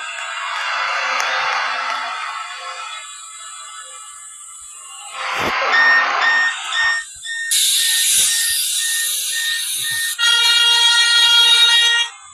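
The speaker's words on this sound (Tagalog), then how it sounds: "It's that train horn." Long, loud blasts of a train horn sound repeatedly in the Roblox game Line 2 Realism, each held for a couple of seconds with shifting tones and brief gaps.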